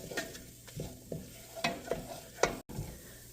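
Paprika and other spices fry in hot oil in a soup pot while a spoon stirs them, giving a steady close sizzle broken by several sharp scraping knocks at an irregular pace.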